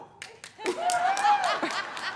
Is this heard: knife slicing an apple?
no